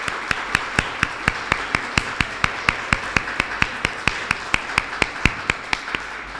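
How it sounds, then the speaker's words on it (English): At a 2019 Alpha Lambda Delta induction, evenly spaced sharp claps sound nearby in a steady, quick rhythm, more like one person clapping than a crowd. "Let's have a round of applause for the 2019 new members of Alpha Lambda Delta."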